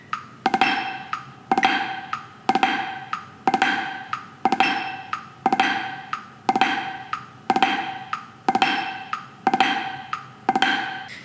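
Snare drum drags played continuously, quick soft grace notes leading into each accented stroke on the beat, an even repeating pattern, close and crisp with no voices.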